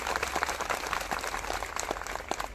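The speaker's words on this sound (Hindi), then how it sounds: "एक बार जोरदार तालियां हो जाए साथियों।" An audience claps at a business award gathering honouring an achiever, producing a dense, steady burst of many hands applauding throughout.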